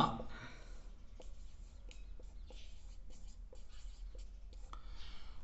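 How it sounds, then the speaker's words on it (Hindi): Chalk or marker writing on a board in a quiet room, producing soft, regular taps and short strokes at an even pace over a low background hum. "चलिए लिख देता हूं यहीं लिख देता हूं"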